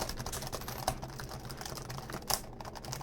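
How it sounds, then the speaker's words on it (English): Fingers type on the keyboard of an IBM ThinkPad T43 laptop, a quiet, close run of soft plastic key clicks with a few sharper taps, alone with no talk. "Keyboard feels decent, as you would expect for a ThinkPad keyboard."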